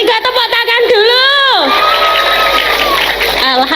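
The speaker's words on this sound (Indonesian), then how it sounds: "3 tepuk tangan dulu." An audience at a live Javanese religious talk bursts into loud cheering and applause, a dense wash of crowd noise that swells after a shouted line and carries on to the end, with a voice over it at the start.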